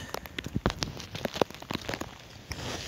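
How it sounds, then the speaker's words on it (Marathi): Heavy rain driven by wind falls on a farm field during finger millet planting, heard as scattered close drops and irregular pattering bursts rather than a dense, steady roar. "पाऊस इलो जोरात."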